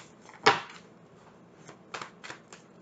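Tarot cards are shuffled close by: one sharp riffling burst followed by a few softer, quicker card flutters in a quiet room, with no talking.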